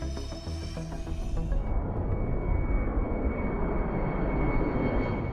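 A Boeing Red Hawk jet trainer flies past with a loud, steady roar that holds for several seconds without a break. No voices are heard.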